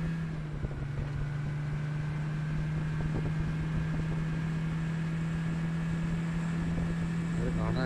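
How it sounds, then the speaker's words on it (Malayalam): A boat engine in a video game drones as a steady low, even hum that never changes pitch, with a faint wash of water and wind noise mixed in. "ബോട്ട് നേരെ ഈ സൈഡ് ആയിട്ട്."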